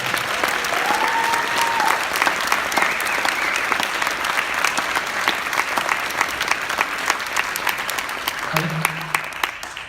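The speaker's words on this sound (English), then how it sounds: "We give Sophie one round of applause." A crowd at a high school diploma ceremony claps steadily and loudly for the full stretch, a dense continuous wash of applause with a few louder individual claps near the end.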